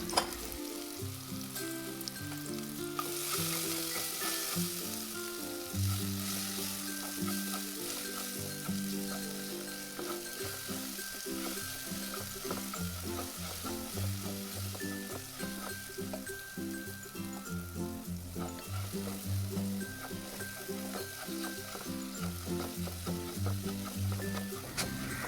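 Chopped banana sautéing in a pan, a steady close sizzle and frying crackle with occasional stirring scrapes running continuously throughout.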